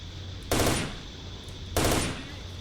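Two loud bursts of automatic gunfire about a second apart in S.T.A.L.K.E.R. Shadow of Chernobyl, each a short rattling volley over a quiet steady background hum.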